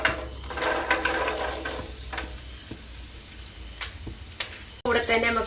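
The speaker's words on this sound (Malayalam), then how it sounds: "എണ്ണ മൂത്ത് വരുമ്പോ നമുക്ക് വെളുത്തുള്ളി ആഡ് ചെയ്യാം." Garlic dropped into hot sesame oil for a Kerala-style fish pickle, a steady crackling sizzle with stirring scrapes throughout and a sharp clatter near the end, a voice talking over it.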